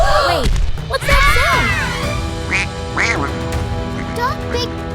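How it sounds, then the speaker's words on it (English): A giant cartoon duck lets out several loud, close quacks in bursts, with thumping crashes around them and voices talking in between. "Oh no, it's a giant duck."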